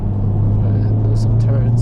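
A steady low car engine rumble close by, with a few faint hissy bursts on top.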